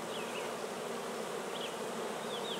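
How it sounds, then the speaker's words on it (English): Dense, steady buzzing of many honey bees bearding in a clump on the outside of a hive in early July in Alberta, a continuous close drone with a few individual bees whining past. "There could be lots of factors to have your bees all balled up, bearding like this."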